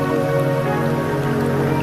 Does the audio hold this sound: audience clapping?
no